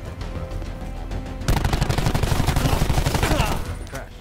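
Rapid gunfire in Black Ops 4 breaks out abruptly after a quieter stretch of game noise, a loud, steady stream of closely spaced shots that holds for about two seconds before tailing off.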